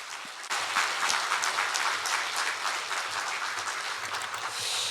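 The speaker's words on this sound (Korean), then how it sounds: "우리 나오실 때 박수로 축복합니다" A church congregation at an evening worship gathering breaks into sustained, even applause that begins abruptly and holds steady, close and full, with little talk beneath it.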